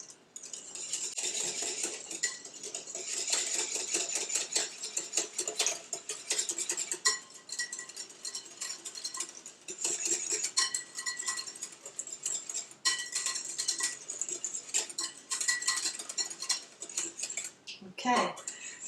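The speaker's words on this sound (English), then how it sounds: "we're going to add a half of a cup of orange juice or a sugar alternative orange drink. And we're going to whisk that together" A whisk rattling against a bowl while orange juice or orange drink is beaten into a homemade orange sherbet ice cream mixture, rapid close metallic clinking in long runs with short pauses between.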